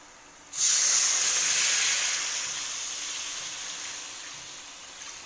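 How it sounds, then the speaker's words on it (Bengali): Water poured into a hot biryani pot with potatoes and chicken sets off a sudden loud hiss, a burst of steam that stays bright and strong, then fades gradually to a steady softer hiss, with no voices. "দেখুন বন্ধুরা, এতে আমি জল অ্যাড করে দেবো।"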